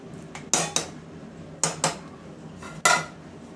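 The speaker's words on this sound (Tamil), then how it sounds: "கொஞ்சம் கொத்தமல்லி இலைகள் போட்டு கலரி விட்டுடலாம்" Ghee and coriander leaves being mixed into Erode-style lentil rice in a pot, heard as a few sharp metal spoon clanks against the pot with scraping between them, close and clear with no talk.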